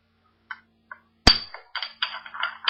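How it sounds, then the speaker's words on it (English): A single dried allspice berry drops into a mortar with a sharp, bright clang, followed by a few lighter rattles and taps as it settles, close and clear amid near silence. "Drop it into my mortar and pestle."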